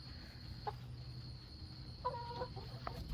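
Chickens in a backyard coop, including a flat-combed hen, give a few short clucks at about half a second and again near two and three seconds, fairly close, over a steady low hum.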